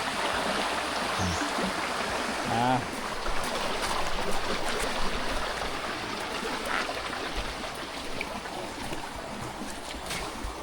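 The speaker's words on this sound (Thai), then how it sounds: "บ่ออันนี้คือสายน้ำที่ชาวบ้านตัก กินในแต่ละมื้อนะ" Water flows steadily at a village stream in Savannakhet, Laos, where villagers draw their drinking water. A continuous close rushing and trickling fills the whole stretch.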